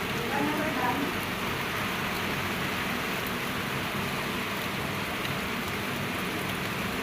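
Steady, dense rain pours onto a rooftop with a close, even hiss of drops drumming on the surface, holding at a constant heavy level throughout.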